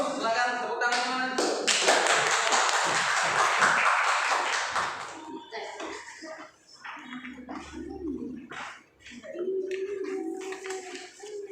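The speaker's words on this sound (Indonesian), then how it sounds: "silakan maju, silakan tepuk tangan teman" Classmates in a school classroom applaud as a presentation group on the Mongoloid race walks up, a dense burst of clapping for several seconds that thins into scattered claps, footsteps and room chatter.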